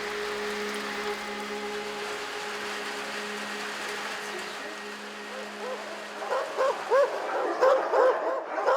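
Many dogs bark and yip at an animal shelter on the outskirts of Lviv, the barking building from faint and distant to a louder chorus of sharp repeated yaps beneath a steady background hum.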